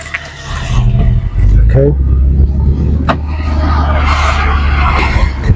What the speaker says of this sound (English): Okay, now we're going to go for a test drive.